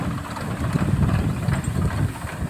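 A tractor idles while fodder bundles are loaded onto it, a steady low rumbling engine throb that stays close and constant throughout, with no voices.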